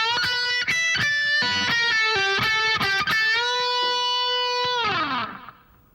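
Distorted electric guitar plays the first lick of a solo, a quick run of picked notes and bends ending on a long sustained note that slides down and fades, loud and alone.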